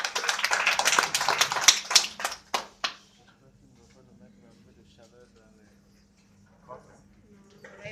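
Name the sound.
audience applause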